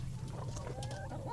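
A broody lavender Americana hen clucking softly in an old-fashioned nesting box, a few low murmuring clucks close by over a steady background hum.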